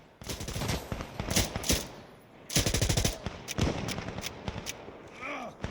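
Bursts of high-caliber automatic rifle fire in Insurgency Sandstorm, loud and close, coming in several rapid volleys separated by short pauses, with a faint voice murmuring in the background.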